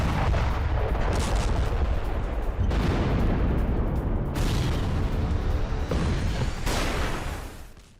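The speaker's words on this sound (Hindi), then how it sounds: "आवाजें सुनिए, आसपास का इलाका विस्फोट और गोलियों की आवाज से दहल उठा।" Heavy booms and rumbling blasts from the Russia-Ukraine war roll continuously, mixed with bursts of gunfire, loud and dense throughout before fading at the end.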